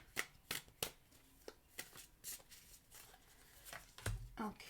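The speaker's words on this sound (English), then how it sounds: "let me shuffle because I don't like cards jumping out." Oracle cards are shuffled by hand in a series of quick, crisp riffling bursts and soft slaps, close and fairly quiet with short pauses between.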